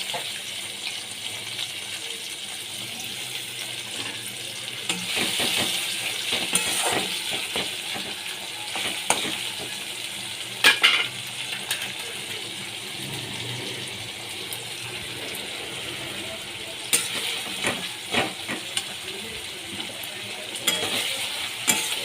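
Crushed tomato, ginger and garlic fry in a pan with onion, a continuous close sizzle broken by repeated scraping and clattering stirs.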